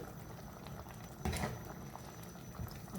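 Egg curry simmering under a lid in a covered pot gives a quiet, steady bubbling hiss with a slightly louder burst of bubbling partway through.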